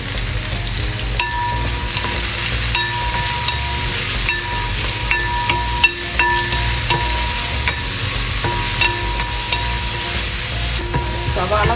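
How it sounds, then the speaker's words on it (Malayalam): Onions sizzle and sauté in hot oil in a pan for Kerala-style kappa biriyani with beef, making a steady close frying hiss with occasional stirring clinks and scrapes and no talking. "ഉള്ളി ഇട്ട് വഴറ്റുക. ബീഫ് വെളുക്കാനുള്ള സവാളയാണിത്. ഇതിട്ട് വഴറ്റുക."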